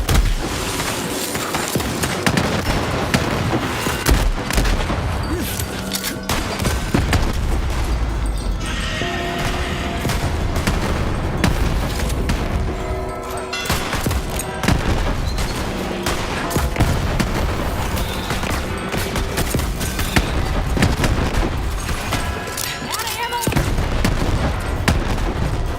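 Sustained heavy gunfire fills a Borderlands 3 battle, loud and unbroken for the full stretch, with booms and crashes layered over the shooting and no clear talk.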